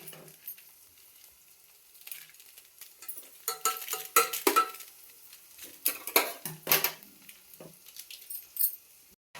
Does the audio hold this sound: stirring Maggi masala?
yes